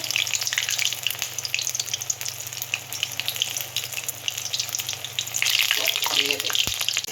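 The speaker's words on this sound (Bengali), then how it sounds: "ভালো করে এপিট এপিট করে বড়াগুলোকে ভেজে নিতে হবে।" Water lily fritters deep-fry in bubbling oil, a bright, constant crackle and hiss up close, swelling slightly louder near the end.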